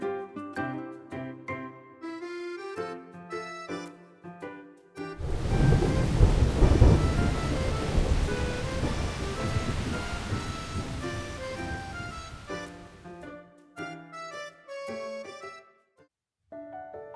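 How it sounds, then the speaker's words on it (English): Thunder and heavy rain from the video game Love and Deepspace, a deep rumbling roar with a dense rain wash that lasts several seconds between stretches of gentle piano music. "That sounded like thunder."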